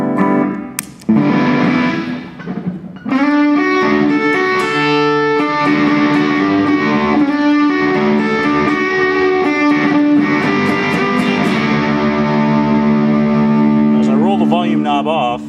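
Electric guitar through a Bearfoot FX Candiru Apple Fuzz pedal, loud thick distorted notes and sustained chords ringing with a dense, buzzy fuzz texture, a brief pause early on before the playing continues steadily.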